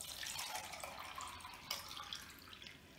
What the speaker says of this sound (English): All the water in here went into this container and it only went up to here.